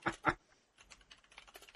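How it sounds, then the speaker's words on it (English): Someone types on a computer keyboard, two sharp key clacks followed by a quieter, quick run of soft keystrokes, close and faint, with no talking. "He's typing up a script already."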